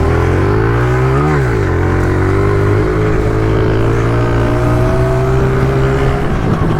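Dirt bike engine revving loud and close as the rider pulls wheelies, a steady throttled drone with a quick pitch rise and dip near the start before holding high.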